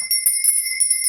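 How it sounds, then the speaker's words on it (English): A small hand bell rung for energy cleansing gives bright, ringing metallic tones that sustain steadily, with several light repeated strikes layered over the lingering ring, close and fairly loud. "this is my lovely lady bell. I'm going to be ringing this just to cleanse the energy around us"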